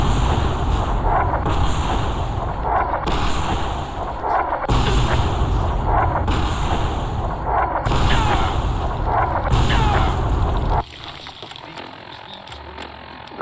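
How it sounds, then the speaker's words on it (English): Artillery bombardment in Fallout: New Vegas, repeated heavy booming barrages in bursts of roughly one and a half seconds, loud and rumbling, before settling into quieter rumble and wind, with faint voices underneath. "How the hell did you survive that bombardment?"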